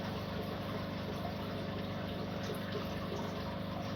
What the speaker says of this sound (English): I like the sound of the running water me though as well